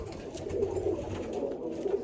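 Pigeons in a loft give a steady, low murmuring coo that runs continuously and close by with no pauses, with no voices heard.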